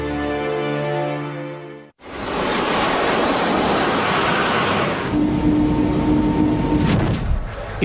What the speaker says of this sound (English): Almost silently, the streamlined coaches begin their journey.